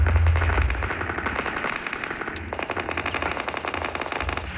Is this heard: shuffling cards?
no